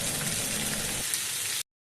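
Cauliflower frying in a pan gives a loud, dense, steady sizzle close by that cuts off abruptly near the end, leaving near silence.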